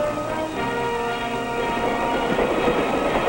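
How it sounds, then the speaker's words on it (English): A 1950s passenger train rolls steadily along the rails, a continuous rumble with rhythmic wheel clatter, loud and close, no voices. "Today's trains are faster trains, smoother riding trains, more comfortable trains."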